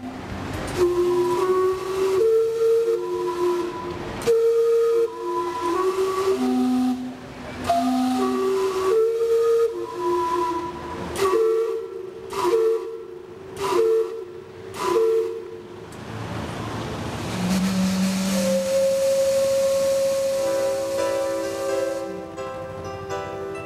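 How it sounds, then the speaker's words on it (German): The steam clock in Gastown, Vancouver, British Columbia, whistles a sequence of chime-like steam tones, several distinct notes in a melodic pattern followed by a longer hissing blast, close and loud with no talking. "eine alte Steamboat-Dampfuhr,"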